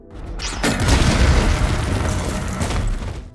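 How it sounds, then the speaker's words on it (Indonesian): A bomb trap explodes in a film scene, one loud, close blast with a deep rumbling body that holds for a few seconds before slowly fading. "mereka termakan jebakan bom"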